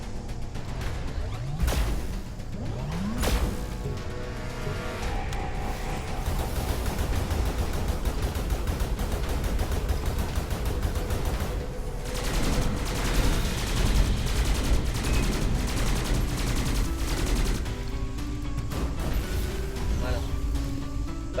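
A plasma rifle mode in the PC game Skyforge fires rapid, dense bursts of energy shots with sharp whooshes and crashing impacts, loud and continuous throughout amid busy game effects.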